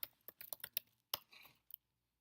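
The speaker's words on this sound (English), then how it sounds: "I'm going to type in performance problems." A computer keyboard is typed on in a short burst of close, crisp key clicks with a brief pause in the middle, then silence.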